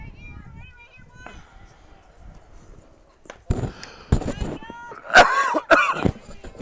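Several sharp coughs burst out close to the microphone, one after another, following a stretch of quieter background chatter at a softball game.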